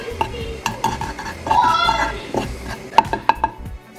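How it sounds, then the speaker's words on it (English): Dry spices cook in a hot, smoking pan for a mushroom curry, as a utensil scrapes and clinks against the metal. The scraping comes in uneven strokes, with a brief burst of sizzle midway. "the pan is smoking and I'm cooking through the spices"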